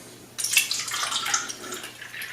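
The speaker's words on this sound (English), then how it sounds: "let me put the Kangen water into the drops of tea" Kangen water poured into a few drops of tea, a brief splashy trickle that starts abruptly and continues as a light, bright pouring sound for about two seconds, close and unaccompanied by talk.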